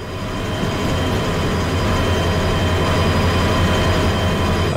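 Heavy diesel locomotive engine in the train game Derail Valley, running hard at about 80% power: a loud, steady low rumble with a constant drone throughout, no speech.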